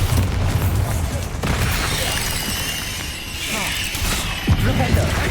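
A Bombarda spell explosion in Hogwarts Legacy lands as a loud, dense burst of crashing and shattering debris with mechanical clatter, sustained for several seconds and then swelling again near the end.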